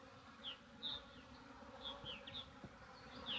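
Honeybees buzzing around an open hive split, a faint steady insect drone with several brief higher whines of individual bees flying close past, outdoors at low level.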